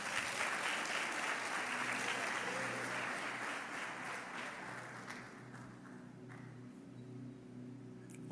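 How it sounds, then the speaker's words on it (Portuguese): Congregation in a church service clapping together, a dense steady burst of applause that gradually thins and fades over several seconds while a low sustained tone lingers underneath. "Dê um aplauso para Ele."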